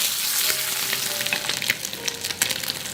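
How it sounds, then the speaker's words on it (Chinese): Smoked fish fries in hot oil in a pan, a dense continuous sizzle and spatter with occasional louder pops, steady and close throughout with no talking. "鱼肉给它下锅煎一下"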